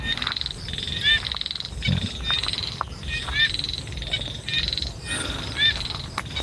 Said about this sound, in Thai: เสียงจิ้งหรีดเสียงเลไลมันร้อง